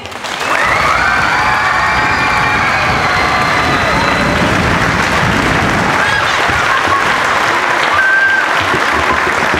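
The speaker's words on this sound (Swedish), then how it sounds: "så jag vill bara ge en extra stor applåd." A crowd applauds continuously at a handball club's end-of-season gathering, loud dense clapping with some cheering and children's shouts mixed in, sustained steadily throughout.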